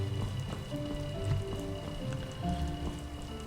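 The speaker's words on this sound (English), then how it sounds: "Of course, it's raining." Steady rain hisses and patters across the scene in the fantasy video game Enderal, blended with a sustained game music bed of held tones; the noise stays even and continuous throughout, with no voice over it.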